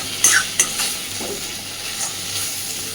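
Pumpkin mash is stirred in a wok over a flame. A soft sizzle runs throughout, with two sharp scraping knocks of the spoon early on and lighter stirring after, and no one speaks.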